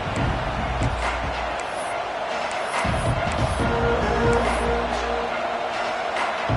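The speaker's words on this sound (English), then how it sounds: "This crowd ready to make its presence known." A college football stadium crowd roars in a broad, continuous wash of cheering and noise, with thuds and a commentator's voice heard intermittently over the din.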